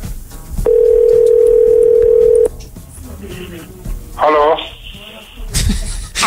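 A telephone dial tone hums steadily for about two seconds while a radio morning show calls a listener. Beeps and clicks follow, with voices and studio sounds around them.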